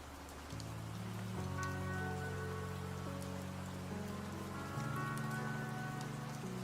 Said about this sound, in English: we're just gonna enjoy the rain sounds a little bit